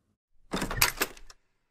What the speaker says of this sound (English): Take, for instance, the sound of a door opening